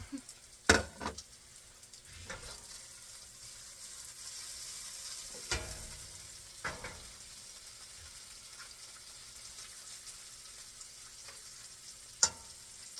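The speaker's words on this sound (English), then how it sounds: "Add those onions there now. And we're gonna wait for them to cook." Onions fry quietly in a pan, a soft low sizzle with a few sharper clatters and taps of utensils standing out near the start and end.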